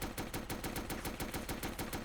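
A Lahti-Saloranta M26 machine gun fires in the Men of War: Assault Squad 2 video game, a steady burst of about a dozen evenly spaced, fairly slow shots, distant and faint.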